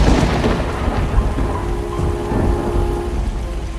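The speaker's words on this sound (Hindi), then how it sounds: "अरे बुल्ली, लगता है ये बारिश नहीं रुकेगी, हमें कहीं रुकना चाहिए।" Steady rain with rumbling thunder in a horror video game, a loud continuous downpour and storm rumble filling the scene alone without voices.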